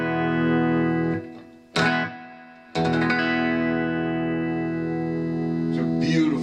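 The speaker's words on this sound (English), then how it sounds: "I have it flat, just the guitar with a little reverb" A Vega lap steel guitar played through a Vox modeling amp with a little reverb rings out in sustained, warm chords, with sliding notes, a few abrupt stops and re-attacks, and reverb tails trailing each phrase.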